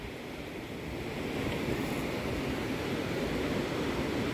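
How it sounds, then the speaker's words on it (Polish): Pacific Ocean surf breaking on a stony Los Angeles beach, a steady broadband wash of waves with wind noise, continuous and fairly loud with no speech. "Mega fale."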